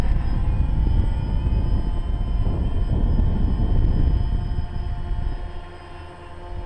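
DJI Phantom quadcopter hovering outdoors in wind, a loud steady buzzing drone of spinning rotors with rumbling low wind noise, fading slightly near the end.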